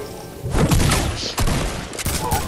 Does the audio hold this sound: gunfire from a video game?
yes